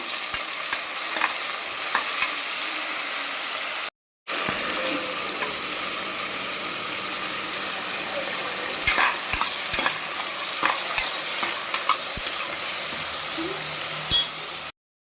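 Tomato rice with meal maker being stirred and cooked in a pan, a steady sizzle with scraping stirs and clinks, close and continuous, briefly cut off near the start.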